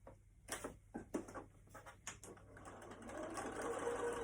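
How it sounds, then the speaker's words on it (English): A sewing machine stitches the seams of a fabric face mask in several short rattling bursts, quiet and close, ending in a longer steady run of stitching. "And back stitch at the beginning and end of each piece."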